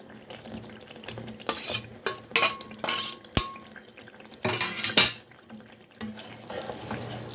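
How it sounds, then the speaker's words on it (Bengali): Fried paneer goes into spinach in a pan and is stirred, with metal utensil clatter, scraping and wet, frying sounds coming in irregular bursts, close by and without talking. "এখন আমি এর মধ্যে দিয়ে দেবো ভেজে রাখা পনিরগুলো"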